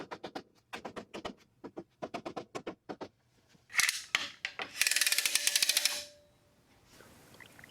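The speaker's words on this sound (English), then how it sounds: "Clamping these is just a little extra added precaution." Wooden breadboard end being clamped onto a tabletop: a run of sharp ratcheting clicks from the clamp, then louder bursts of rattling mechanical clatter, close and without speech.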